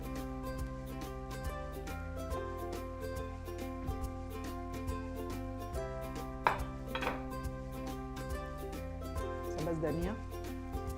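Fresh coriander is chopped with a knife on a board in a Pakistani home kitchen, quick rhythmic blade taps running steadily beneath background music.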